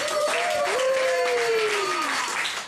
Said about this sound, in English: give him a round of applause right now